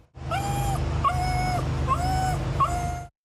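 A small dog shut inside a car whimpers and yips again and again, each cry a thin rising whine followed by a held high note, loud and close over a low background drone.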